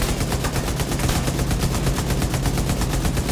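Rapid automatic weapon fire in The Division 2, a loud unbroken stream of shots at an even fast rhythm.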